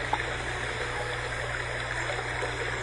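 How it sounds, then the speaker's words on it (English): Steady foamy rush of a waterfall in the Wizard101 game world, a continuous broadband wash of flowing water with a low hum beneath, even and unbroken throughout. "You collect the foamy water created by the waterfall."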